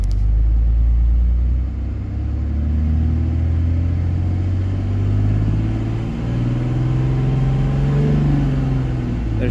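A pickup truck with a 48RE transmission idles in neutral, its engine giving a steady, loud, close low rumble with slight rises in pitch and no talk.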